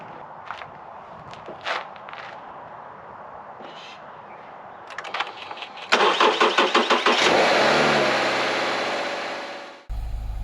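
Subaru Crosstrek with a newly replaced battery: after a few quiet clicks and handling noises, the starter cranks in quick rapid pulses, the engine catches and revs up loudly, then settles before cutting off abruptly.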